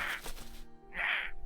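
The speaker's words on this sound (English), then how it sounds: "the crow screeches." An injured crow in the video game Love and Deepspace caws twice, a harsh grating screech, then a pause, then a second louder caw, close and clear with faint background noise.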